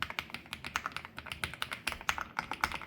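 An Epomaker TH99 mechanical keyboard with creamy jade switches is typed on at a steady pace, producing a close, rapid run of soft clacky keystrokes with small irregular gaps.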